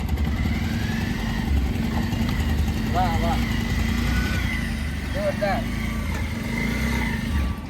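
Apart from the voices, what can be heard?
motorcycle ridden slowly in slow bike challenge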